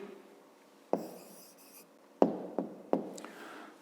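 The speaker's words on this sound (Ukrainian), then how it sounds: "Пишемо відповідь." Pen strokes on paper while writing out the answer to a fifth-grade math exercise: a few short, distinct scratches and taps, close and quiet, with no talking.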